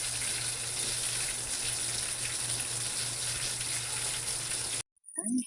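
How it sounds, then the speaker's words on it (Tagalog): Garlic and tomatoes sautéing in a pan for ginataang munggo with jackfruit: a steady, loud hissing sizzle runs unbroken for nearly five seconds, then cuts off abruptly before a short low thump. "ginigisa ko na yung bawang at saka mga kamatis ko"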